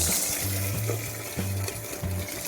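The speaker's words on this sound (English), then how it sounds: "When it starts becoming golden, I'm going to add in green chilies" Green chilies sizzle and fry in hot oil alongside golden chana dal and urad dal for raw mango rice, a steady close crackle with low stirring scrapes recurring in short bursts, no voices.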